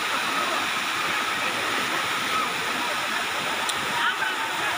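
Water tumbles down a waterfall in a steady, dense rushing roar. The sound is continuous and fairly close, with a faint brief click near the end.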